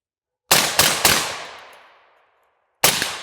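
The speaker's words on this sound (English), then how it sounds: "this thing's really fun, so I'm going to keep putting rounds down range" A rifle-caliber pistol fires three quick sharp shots at an outdoor range, the last echoing away over a second before another loud shot cracks near the end.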